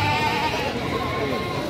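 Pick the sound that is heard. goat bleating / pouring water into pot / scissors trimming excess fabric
goat bleating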